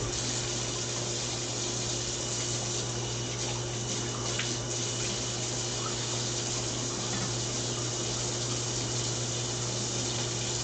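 Sink tap running water over a dropped onion in a kitchen, a constant close hiss of flowing water that continues unbroken throughout with no talk.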